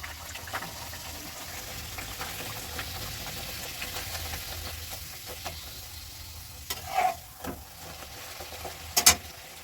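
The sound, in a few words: luchi (puffed flatbread) frying in a wok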